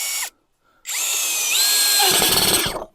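An ELTOS DA-16DFR brushless cordless screwdriver whirs up to speed, strains and slows as it drives a screw into ash wood, then stops, close and loud.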